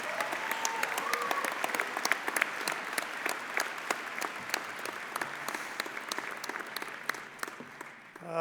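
An audience at a university midyear undergraduate commencement applauds a trustee with steady, dense clapping from a large crowd that holds for several seconds before tapering off.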